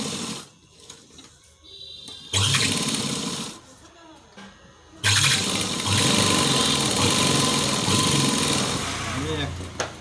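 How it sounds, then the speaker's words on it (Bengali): A sewing machine stitches a patiala pant in two bursts, a loud steady mechanical whirring that starts, pauses briefly and resumes for a longer run, with quiet handling noise between. "আমি একটা সেলাই মেরে দেখাচ্ছি তোমাদের"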